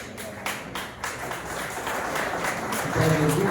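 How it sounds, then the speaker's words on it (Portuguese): A church congregation claps during a healing and deliverance service, a moderate wash of applause with a few sharper claps, joined near the end by voices and a low sustained tone. "dar uma linda salva de palmas para Jesus"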